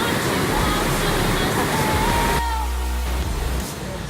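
Steady roar of a waterfall at a jungle swimming spot, loud and continuous broadband rushing water throughout, with a brief whistle-like tone in the middle and the level dipping slightly near the end.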